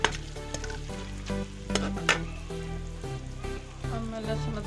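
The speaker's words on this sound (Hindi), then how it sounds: "प्याज हमारा फ्राई हो गया।" Onions fry in hot oil in a home kitchen, a dense steady sizzle with scattered crackles and stirring clatter throughout, close and moderately loud.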